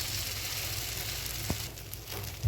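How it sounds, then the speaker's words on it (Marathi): Batter spread over a hot oiled tava sizzles in a steady, close hiss that runs the whole time, with a soft thump partway through. "तव्यावर मिश्रण टाकायचं"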